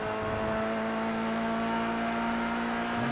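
A Formula 3 race car in the iRacing game at Silverstone, heard from onboard, gives a steady, loud high-pitched engine drone at constant revs that dips briefly near the end.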